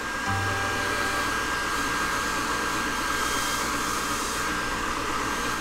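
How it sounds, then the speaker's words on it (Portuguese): An automatic hand dryer in a cartoon washroom blows with a steady, loud, unbroken whooshing roar that holds at an even level throughout. "Ele brinca de secar as mãos sob o secador automático."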